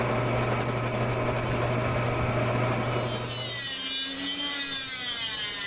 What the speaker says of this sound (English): I use a Dremel right here.